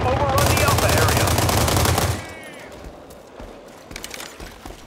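Rapid automatic gunfire in the World War 3 video game, set in Warsaw, bursts loudly for about two seconds, then gives way to quieter scattered shots and battlefield ambience, with distant bangs near the end.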